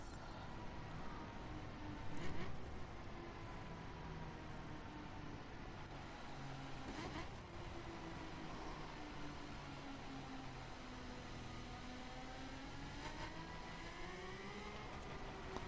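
A Ferrari sports car in the racing game The Crew, its engine droning steadily with rising and falling pitch as it accelerates, a continuous moderate whine under constant road noise with no talk.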